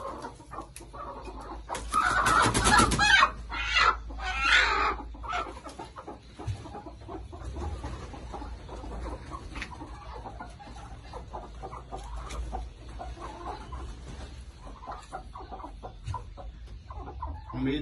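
Farmyard hens cluck with a loud flurry of squawking early on, then softer intermittent clucks and rustling continue for the rest of the stretch, close by with no talk.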